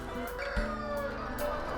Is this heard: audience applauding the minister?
no